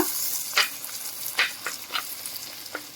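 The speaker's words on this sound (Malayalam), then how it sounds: "അതിലേക്ക് ഞാൻ ഒരു ചെറിയ വറ്റൽമുളകും കൂടി ഇട്ട് കൊടുക്കുന്നുണ്ട്" Ginger, green chili, onion, dried chili and curry leaves fry in a pan with a soft background sizzle, broken by several sharp scraping strokes of a spoon stirring them, heard close and with no talking.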